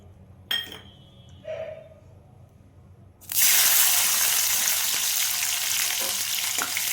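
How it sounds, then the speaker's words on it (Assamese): Raisins dropped into hot ghee, heard after a couple of soft knocks and clinks, then a sudden loud, close sizzle that bursts up and holds steady, with faint scattered pops to the end. "ঘিউখিনিতে মই কেইটামান খিচমিচ ভাজি লওঁ"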